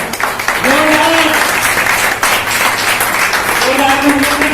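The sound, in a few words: audience applause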